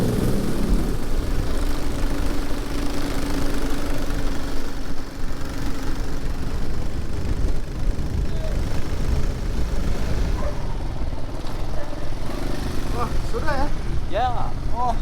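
A Gojek motorbike taxi on a short ride on Siau Island, Indonesia, its engine a steady low drone close by throughout, with wind and road noise mixed in and voices talking over it.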